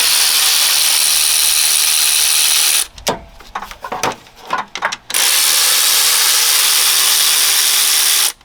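A ratchet loosens 10mm bolts on a 2011-2017 Honda Odyssey during a radiator fan replacement, giving rapid, loud, continuous clicking at close range, with a short break of scattered clunks in the middle.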